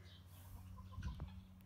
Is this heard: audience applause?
no